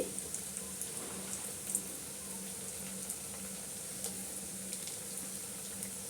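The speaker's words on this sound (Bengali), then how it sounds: "এটা গোল্ডেন ব্রাউন করে ভেজে নিতে হবে" Potato and flattened rice snack pieces shallow-fry to golden brown in a pan, giving a faint, steady oily hiss with scattered tiny pops and ticks, quiet and unaccompanied by talk.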